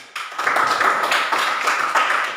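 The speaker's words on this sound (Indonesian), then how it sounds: "Tepuk tangan dulu untuk Samuel." Classroom audience clapping during a teacher practice lesson, a short burst of fairly loud, close hand claps starting abruptly and continuing in a steady patter for about two seconds.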